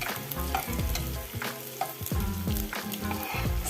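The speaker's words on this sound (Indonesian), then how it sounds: "Kita tumis terlebih dahulu bawang putih sampai warnanya sedikit kecoklatan, lalu masukkan bawang merah." Garlic and shallots sauté in a hot pan with a loud, close, constant sizzle, punctuated by a few rhythmic scraping stirs of a spatula.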